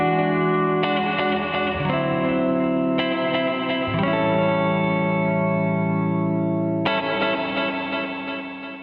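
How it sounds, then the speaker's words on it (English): An electric guitar plays sustained chords through a Boss RV3 pedal in its reverb plus delay mode, each strum blooming into long, shimmering echoing tails that overlap and slowly fade near the end. "the Boss RV3 that I was using there has these fantastic reverb plus delay modes in the middle"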